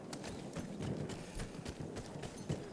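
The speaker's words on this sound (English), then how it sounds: "Horse." Horse hooves in Battlefield 1, a quick run of rhythmic clip-clop beats at a steady gallop pace, moderately close but quiet, with no speech over them.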